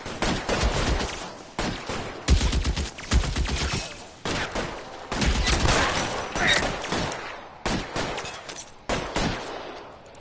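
A Thompson submachine gun fires in a video game shootout: several loud, rapid automatic bursts come one after another, separated by short pauses.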